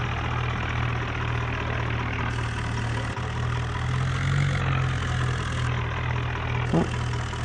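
A Swaraj 963 tractor engine in a video game drones steadily at idle-like revs while hauling a stuck trailer, a continuous low hum with small shifts in pitch and no talk.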